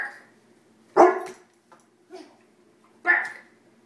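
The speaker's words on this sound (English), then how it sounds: "Tell Fry to bark." Dog named Fry giving a few short barks and yips indoors, with two sharper barks separated by a softer one, close and clear in a quiet room.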